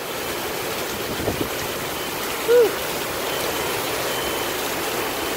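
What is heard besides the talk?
hurricane Florence wind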